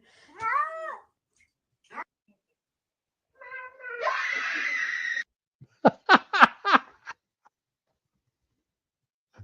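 A cat meows in a chatty, talkative way, with a few drawn-out calls followed by a quick run of short chirping meows, close and fairly clear with pauses between bursts.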